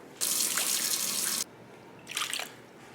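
Water is poured into a meatloaf mixing bowl holding eggs and onion soup mix: a steady close splashing stream for about a second, a pause, then a shorter second splash.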